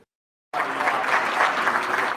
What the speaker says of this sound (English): Thunderous applause for the charismatic man who appeared to possess.